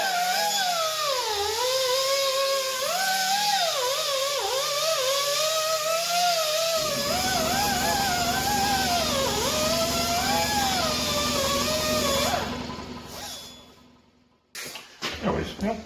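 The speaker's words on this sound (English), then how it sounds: "this buffing type wheel works good for copper and aluminum" A buffing wheel polishing copper gives a steady, loud whirring drone with a wavering pitch that shifts as the piece is pressed against it, then the motor winds down near the end, followed by brief handling noises.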